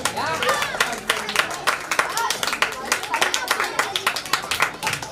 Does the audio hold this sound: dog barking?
no